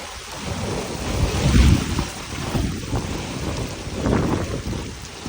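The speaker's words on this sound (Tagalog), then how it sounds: "Grabe ang baha. Bahang-baha na." Heavy floodwater surging through a flooded area, a dense roar of rushing water with rumbling low swells rising and falling, loud and continuous.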